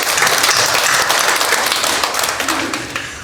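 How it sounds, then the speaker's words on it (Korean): A congregation claps together during a church couples' faith seminar for regional elders, a loud burst of dense applause with some distinct taps that gradually thins and fades toward the end. "우리 하나님께 영광의 박수"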